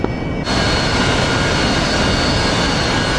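In the DCS flight simulator, an aircraft engine roars loud and steady before takeoff on a short runway, a broad, close, continuous jet-like rush that swells in after a brief quieter start.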